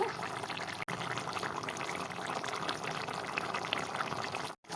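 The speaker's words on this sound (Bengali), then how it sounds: "এবার ভালো করে আমি ফুটিয়ে নেব" Fish kosha gravy with added water boils in a pan, a steady, close, continuous bubbling hiss that holds evenly throughout, broken by two brief dropouts.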